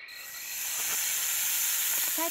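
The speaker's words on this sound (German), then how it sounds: "Und die zischt ziemlich laut, die Schlange." A snake in the video game The Legend of Crystal Valley hisses loudly in a swamp, a steady, bright, breathy hiss that swells and then holds for a couple of seconds.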